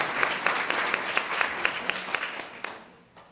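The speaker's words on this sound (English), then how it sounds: "so give them a round of applause" Audience applause at a business meeting: a broad wash of steady clapping from a room full of people, lasting a few seconds and tapering off toward the end.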